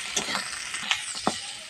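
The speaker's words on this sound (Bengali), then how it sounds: "একটু হলুদ গুঁড়ো, সামান্য পরিমাণে নুন, আর ভালো করে কষিয়ে নেবো।" Fish head sautéed in a pan with turmeric, cumin and salt gives brief sizzling bursts with a few stirring scrapes, close and moderately loud, with no voices.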